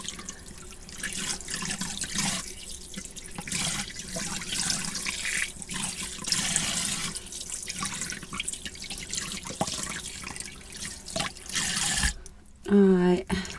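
Clip-in hair extensions being rinsed under a running tap in a sink, a continuous close splash and hiss of flowing water with a voice talking over it and a brief clunk near the end.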